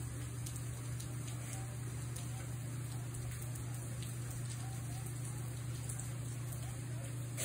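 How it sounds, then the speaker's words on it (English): Steady rain falls outdoors as a constant soft hiss with scattered drops, joined by a continuous low hum throughout. "It's raining."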